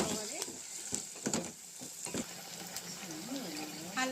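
Sliced onions with turmeric fry in a pan with a soft continuous sizzle, broken by several sharp scraping stirs of a utensil; a voice speaks briefly in the background.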